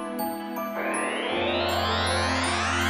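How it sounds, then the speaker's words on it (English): Magical fairy dust sprinkled in a children's fairy tale, heard as a bright, tinkling chime that swells into a sustained shimmering twinkle, fairly loud and alone. "And she sprinkled some fairy dust over Peppa."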